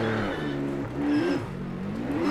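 A GT3 race car engine in Project Motor Racing drones and revs steadily, its tone rising and falling through gear changes, loud and continuous with no voices.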